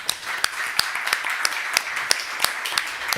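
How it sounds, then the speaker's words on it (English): Audience applause greets a panel of speakers at an Almedalen discussion on European civilian and military preparedness, a steady patter of many clapping hands with sharp individual claps standing out, moderate in level, with no talk over it. "A big round of applause."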